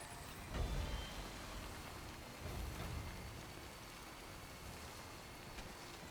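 Faint, steady rainfall from the Death Stranding video game hisses evenly throughout, with a couple of soft low rumbles swelling briefly beneath the distant wash of rain.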